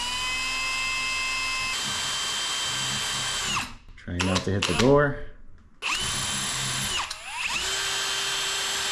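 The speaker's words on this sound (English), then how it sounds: "just enough to get my drill in" A power drill whines in steady bursts, stopping and restarting as it drives screws while installing a pocket door pull, close by, with a brief spoken remark in the middle.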